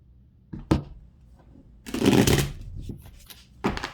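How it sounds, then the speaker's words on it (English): Tarot cards are shuffled in short bursts up close, a quick riffle, a longer rustling flurry, then another brief shuffle, with quiet pauses between. "Alright, one more shuffle."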